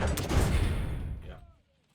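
Heavy artillery fire in a video game: a single booming blast at close range, with a deep rumble that rolls on and fades out after about a second and a half.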